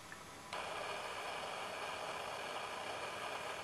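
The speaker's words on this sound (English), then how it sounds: "That's the sound of the anti-shake system actually working in practice." Olympus E-510 camera with in-body anti-shake sensor stabilization switching on, a faint steady hiss-like whir that begins abruptly and holds evenly, very quiet and close with no talk.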